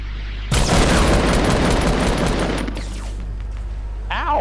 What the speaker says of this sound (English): RPG!